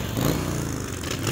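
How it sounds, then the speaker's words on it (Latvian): Motorcycles at a motorcyclists' rally parade in Madona ride through crowded streets, a dense, continuous engine roar with overlapping revving and clatter, close and loud, no talk. "Madonas pārpildītās ielas, kuras simtiem motociklistu sabrauc uz nu jau 9. saietu un 9. motociklistu parādi"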